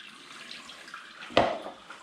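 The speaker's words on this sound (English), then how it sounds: "So at least we've got some warm sparge water going through." Soft, steady trickle of warm sparge water running through grain during all-grain brew-in-a-bag beer brewing, quiet and close, with a brief splashy surge partway through.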